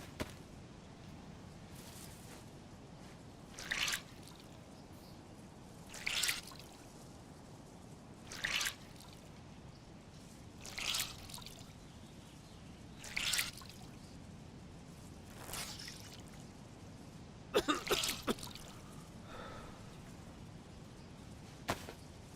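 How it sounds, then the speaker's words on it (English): In the video game DayZ, wet clothes are wrung out. Brief squishing, trickling bursts repeat about every two to three seconds over a quiet background, with no talk. "wring out some of these clothes"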